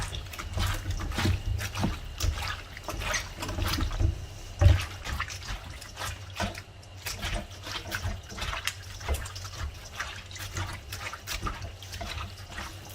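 Raw pig large intestine is rinsed with water after a starch scrub, with splashing, sloshing and trickling water close up, continuous and moderately loud, with occasional thumps.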